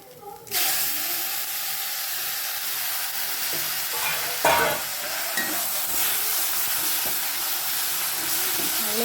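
Hand-mashed tomatoes sauté in a pan for mudakathan rasam, giving a loud, continuous close sizzle and hiss with occasional stirring scrapes and no talk.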